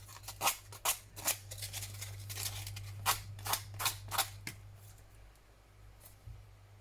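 Sandpaper is torn off in a series of quick, close rasping rips, about eight sharp bursts that fade toward the end, over a low steady hum.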